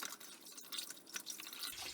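Rinse water is poured over a gun-cleaning bore snake, giving a soft continuous splash and trickle with scattered drips, fairly quiet and close, with no voices.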